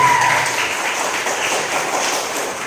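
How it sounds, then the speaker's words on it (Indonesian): A classroom group applauds together, a steady dense clatter of many hands clapping at an even level for a few seconds, with no speech over it. "silakan sebelum diakhiri tepuk tangan dulu untuk kita semua"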